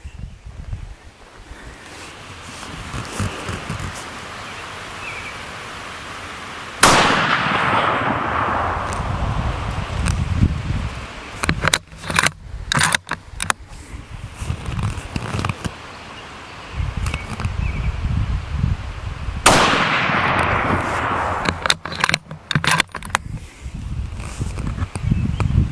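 Two loud rifle shots from a Winchester Model 70 in .270 firing Federal 130-grain rounds, each a sharp crack with a rolling echo, fired well apart over outdoor wind noise.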